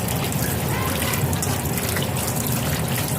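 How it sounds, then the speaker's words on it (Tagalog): Tap water running steadily into a sink while chicken intestines are washed, a loud continuous splashing gush that cuts off abruptly at the end, no talking. "hugasan ko lang po yung isaw"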